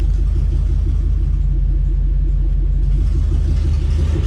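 A Mercedes C63 AMG fitted with aftermarket headers idles with a deep, steady low rumble and a pulsing exhaust burble as it begins to creep off, loud and close throughout.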